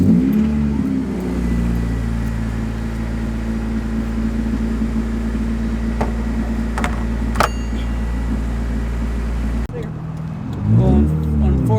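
A de-turboed Honda DA9 hums steadily from inside the cabin on a short drive around the block, with a low, constant engine drone and a few faint clicks, before the engine note shifts and a voice is heard briefly at the end.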